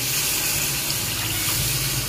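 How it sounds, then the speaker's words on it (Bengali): Water steadily poured into a cooking pot of jackfruit curry with prawns, a continuous close splashing rush with no pauses. "আমি দিয়ে দেবো পরিমাণ মতো জল"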